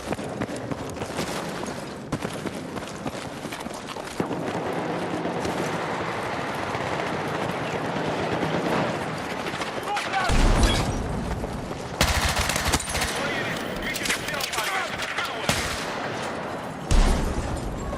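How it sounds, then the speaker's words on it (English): Submachine gun fire in Battlefield, continuous bursts of gunshots and explosions forming a dense battlefield din across the whole stretch, with a louder blast partway through. "Let me try my SMG, bro."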